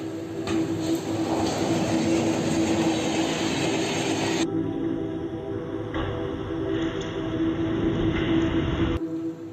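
A train rolls past on railway tracks with a loud, continuous rumble and rushing noise. Wheels squeal on the rails, and the noise changes abruptly as the cars go by.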